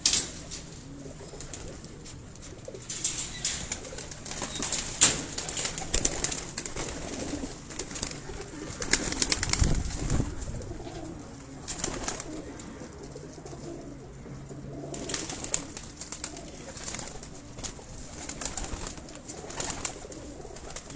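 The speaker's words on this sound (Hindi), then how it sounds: "तो यही कबूतर हैं" Pigeons coo softly and repeatedly on a rooftop in Dhok Kala Khan, Rawalpindi, low throaty calls with scattered clatters and flutters, close but quiet.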